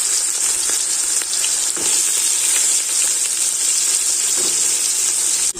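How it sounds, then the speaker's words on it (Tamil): Onions sauté in hot oil for a birthday biryani, making a loud, continuous close sizzle with faint stirring ticks underneath and no talking. "நம்ம வெங்காயம் போட்டு வதக்க ஆரம்பிச்சிடலாம்."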